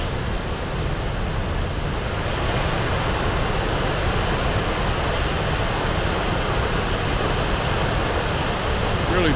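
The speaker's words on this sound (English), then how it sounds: "Love me a waterfall." A waterfall roars from a viewpoint above the falls as a steady, dense rush of falling water, even and unbroken throughout.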